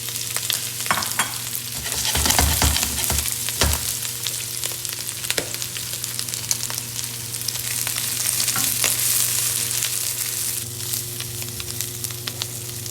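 Steady crackling sizzle of shrimp frying in hot oil, with occasional stirring clatter and louder pops, close up and continuous.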